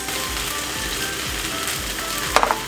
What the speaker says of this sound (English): We cook the bean sprout until it becomes wilt, and then we add the chives